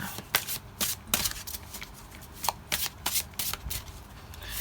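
Tarot cards are shuffled with a quick series of crisp riffling bursts, close and uneven in rhythm. No one speaks.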